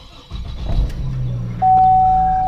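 A car with a freshly replaced VVT solenoid cranks and catches, the engine firing up loud and close and then settling into a steady idle with a sustained tone.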